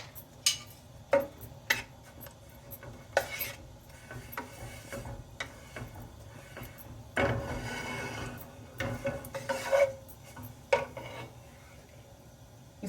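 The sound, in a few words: carrot being grated for gajar burfi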